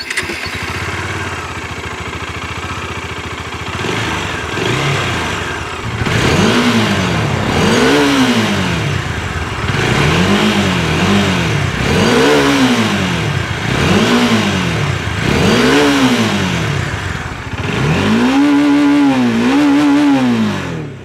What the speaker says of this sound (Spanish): Vamos a ver cómo se escucha esta moto.